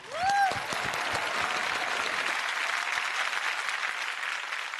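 Loud, dense applause from a studio audience at a Marathi television singing competition, sustained evenly for several seconds, with a brief rising whoop or whistle at the start.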